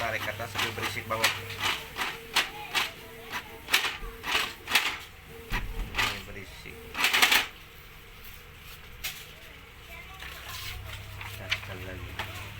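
A Canon MG2570 inkjet printer makes loud, rhythmic clacking and grinding as it pulls in paper, with repeated sharp mechanical bursts that slow and fade into a quieter hum, and a voice is heard nearby.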